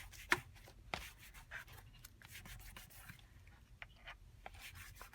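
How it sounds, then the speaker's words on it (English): Soft, dry rubbing as a fingertip lightly spreads black Gilder's wax paste across paper, quiet scratchy strokes with a few sharper brief scrapes, close and alone. "brushing along the paper."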